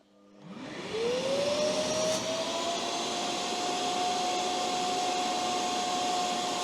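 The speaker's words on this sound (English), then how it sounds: "Now this is going to test the amount of suction force that the vacuums produce." A Kranzle wet/dry vacuum cleaner switches on and ramps up within a second, then holds a steady, loud whining roar with a rising tone that settles into a constant pitch, running alone without talk.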